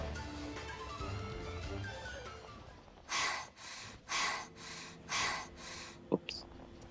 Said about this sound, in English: It's a really loud panting sound.